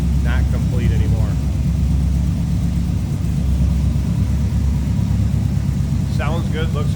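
A 1970 Oldsmobile Cutlass Sports Coupe with a Rocket 350 V8 and automatic transmission idles with a steady, deep rumble close by, while a person speaks briefly at the start and end.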